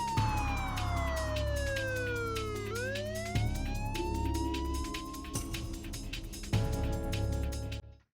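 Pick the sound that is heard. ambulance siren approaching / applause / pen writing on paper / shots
ambulance siren approaching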